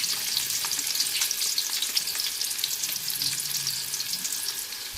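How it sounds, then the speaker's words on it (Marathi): Onion frying in a pan on low heat for a Kolhapuri puffed rice chivda: a continuous bright, crackling sizzle, even and close, with no other sounds. "आता आपल्याला कांदा गोल्डन ब्राऊन होईपर्यंत भाजायचा आहे."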